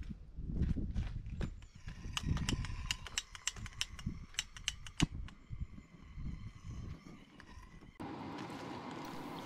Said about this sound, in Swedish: Fläkten funkar väldigt bra